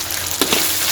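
Mutton fried rice being stirred in a hot pan, a loud dense sizzle with a quick scraping stir in the middle, very close and continuous, no voices.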